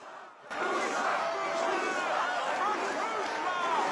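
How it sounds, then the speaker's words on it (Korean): A film's arena crowd chants a single Irish Gaelic word in unison, a dense, loud roar of many voices that swells in after a brief quiet moment and holds steady. "관중들은 모쿠슈라를 연호합니다."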